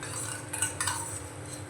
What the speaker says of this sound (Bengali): দইটা দিয়ে ভালো করে মিশিয়ে নিয়ে